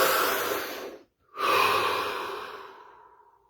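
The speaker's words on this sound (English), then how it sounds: "Deep breath." Deep human breathing: a long, full rushing breath, a short silent pause, then another strong, airy breath that slowly fades. It is close and clear, with no talking.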